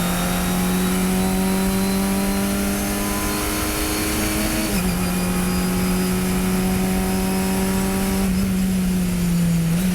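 A rear-engined VW Beetle race car runs on a track at Fun Cup, its engine droning loud and steady from close by, holding a sustained note with slight pitch shifts as it changes speed, and no talking.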